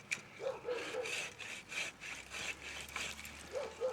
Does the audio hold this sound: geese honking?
no